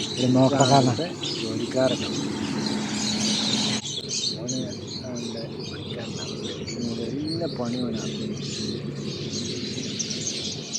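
Busy chorus of small birds, including lovebirds kept at a home, chirping and tweeting continuously, with some cooing and a voice speaking briefly at the start.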